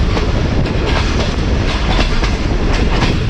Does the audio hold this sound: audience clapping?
no